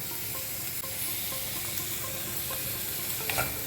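Garlic, ginger and green chili paste sizzles with onions in a shallow layer of oil for spicy Maharashtrian misal, a close, continuous crackling fry with a few faint scrapes of stirring.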